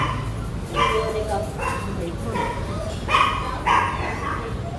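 Rescued dogs give a few yips and barks from near and middle distance over a steady background hiss, the barks coming in short bursts with gaps between them.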